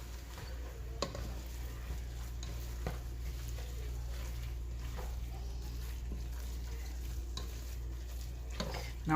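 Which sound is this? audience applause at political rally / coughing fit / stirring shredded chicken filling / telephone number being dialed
stirring shredded chicken filling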